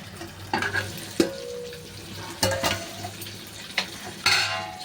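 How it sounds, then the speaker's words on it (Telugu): Fish pieces frying in oil in a pan over medium flame, a steady sizzle broken by several sharp clinks and scrapes of a utensil stirring against the pan. "మంటని మీడియంలో పెట్టుకొని వేయించుకోండి."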